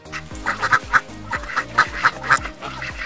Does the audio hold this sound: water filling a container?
no